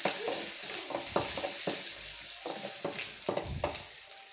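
Garlic, dried red chillies and curry leaves sizzle in hot oil, a close, steady fry broken by repeated sharp crackles and spatters as the ingredients are stirred.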